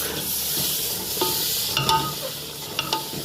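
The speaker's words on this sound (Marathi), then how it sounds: "आता त्याच्यामध्ये स्टॉक टाकून हा पांढरा रस्सा तयार करायचा" Stock is added to a simmering white rassa curry as it cooks, giving a steady sizzle and hiss with a few light stirring clinks against the pot. No voices are heard.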